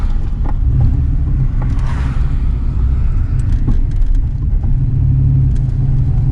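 A turbocharged Fox-body car's exhaust rumbles loudly and deeply with the cutouts open, a steady growl with small surges in revving, and no talking.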